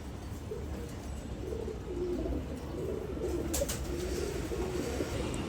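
Pigeons cooing inside a breeding loft, a soft continuous chorus of low coos against a steady background hum, with no talking.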